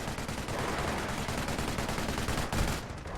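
Machine gun fire in a war video game, dense, rapid bursts of shots that rattle on continuously and loudly without a break.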